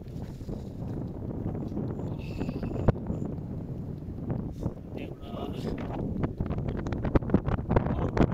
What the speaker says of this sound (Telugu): మేము ఈవినింగ్ వచ్చి టెంట్ ఎప్పుడైతే వేసుకున్నామో అప్పటి నుంచి గాలి ఇలానే వీస్తూనే ఉంది.